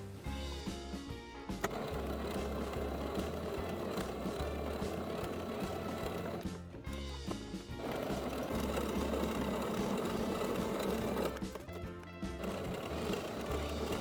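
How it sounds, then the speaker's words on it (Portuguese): A domestic sewing machine runs stitches along the edge of fabric layered on batting, a close rapid mechanical whir that stops briefly twice and then starts again. "gosto de passar uma costura de segurança bem na beiradinha em toda a volta, para ela ficar bem fixa aqui na manta"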